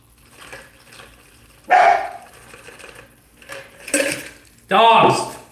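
Dogs bark in sharp, loud bursts inside a home kitchen during taco cooking, mixed with clinks of dishes and pans, and a voice speaks between barks.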